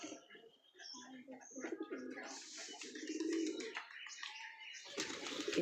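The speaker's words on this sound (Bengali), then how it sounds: "সব পায়রাগুলো এখানে খাবার খাচ্ছে।" Pigeons feeding together at a loft, giving a few low coos and soft calls amid rustling and scattered chirps, fairly close, with some other activity around them.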